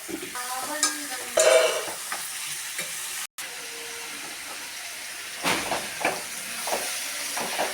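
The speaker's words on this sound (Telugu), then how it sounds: "ఇప్పుడైతే కట్ చేసుకున్న ఆనియన్స్ వేసేసుకుందాం." Chopped onions fry in a pan with turmeric and ginger paste for an onion egg curry, a continuous close sizzle with stirring clatter and one brief dropout, swelling again toward the end.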